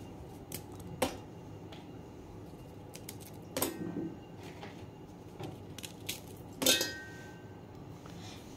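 Oreo biscuits are snapped into pieces inside a mixer jar, giving a few sharp, isolated cracks and clinks against the container, spaced apart over a quiet background.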